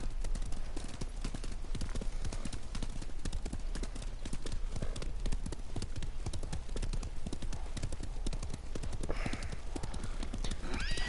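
A horse galloping in the video game Ghost of Tsushima, a fast continuous drumming of hooves lasting throughout, close and steady, with a brief whinny near the end; no talking.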